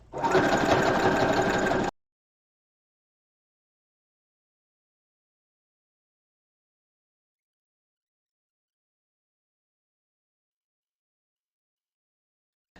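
A sewing machine stitches gathers on an 18-inch doll dress, running steadily and close for about two seconds before stopping abruptly into silence.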